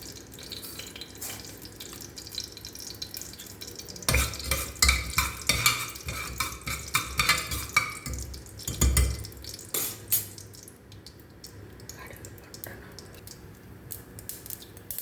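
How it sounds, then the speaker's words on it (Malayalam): Mustard seeds crackle and pop in hot oil in a cooker, a dense run of sharp spattering crackles, loudest in the middle stretch and close by, with no one talking over it. "കടുക് നല്ലതുപോലെ പൊട്ടി"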